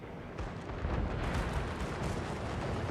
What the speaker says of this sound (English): More rockets coming in.